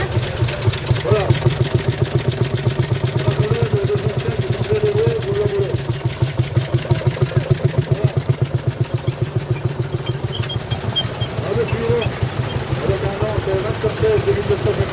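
Vintage 1948 tractor engine running at a ploughing contest, a loud, close, rapid rhythmic chugging with a steady beat throughout.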